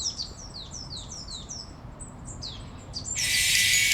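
Birds call repeatedly in the morning, a run of short descending chirps close by, before a loud alarm blare cuts in near the end.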